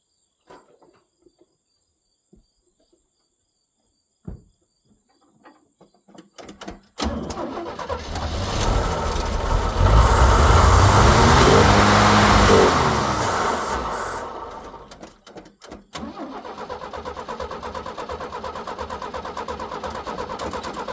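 A 1978 GMC truck engine cranks and catches after a fuel fix, then runs and revs hard, climbing and falling, before settling to a steady idle, loud and close, with insects chirping faintly in the background.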